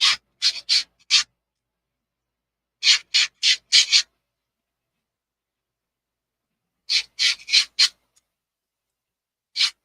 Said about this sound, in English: Let's get a little sandpaper and sand the edges a bit.